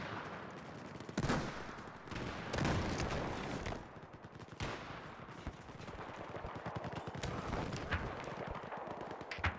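Rifle fire in the shooter Battlefield 4, a soldier firing continuously in long bursts of sharp, fairly faint shots with louder blasts now and then, heard from a spectating view.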